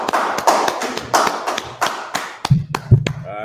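A small group claps in a Harlem street setting, a run of loud, uneven hand claps in irregular rhythm close by, ending in a few sharper slaps and thumps.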